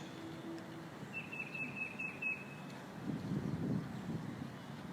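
Faint outdoor bird calls, a short run of quick chirps midway, over a soft bed of wind and ambient hiss with no talking.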